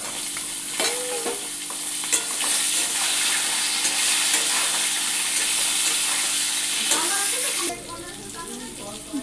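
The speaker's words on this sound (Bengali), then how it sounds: "এবার আমি দিয়ে দেব এই যে কেটে রাখা পটলগুলো।" Cut pointed gourd pieces fry in hot oil in a pan, a loud continuous sizzle with occasional stirring scrapes that drops away near the end.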